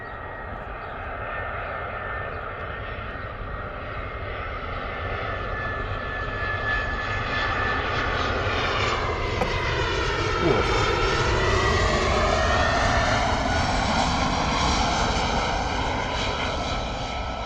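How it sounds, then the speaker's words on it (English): Airbus A319 arriving from Alicante on final approach at Bristol Airport, a steady loud aircraft engine roar with whining harmonics that swell and shift in pitch as the jet passes close, continuous throughout with no talk. "A319 coming in from Alicante, looking absolutely beautiful in the approach here"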